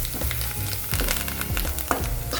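Red chili powder being stirred into girmit, a puffed-rice snack, in a bowl or pan: broad sizzling, scraping texture with a few firmer stirring knocks, close and steady, no talk.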